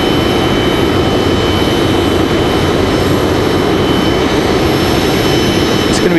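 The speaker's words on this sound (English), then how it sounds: "It is a Cessna Citation XL." A Cessna Citation XL business jet at Raleigh-Durham International Airport gives a loud, steady jet roar that holds unbroken and close throughout, with a thin high whine above it.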